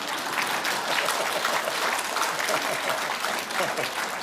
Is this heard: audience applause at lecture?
yes